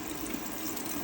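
Water runs steadily from a caravan tap fed by a pump on a 2006 Adria Twin, a smooth continuous rushing flow at close range with no sputtering and no talk.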